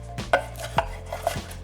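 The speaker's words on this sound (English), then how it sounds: "I'm just chopping up the pancetta." A knife chops pancetta on a cutting board in a home kitchen, with three or four crisp, evenly spaced knocks of the blade, close and moderately loud, and no talking.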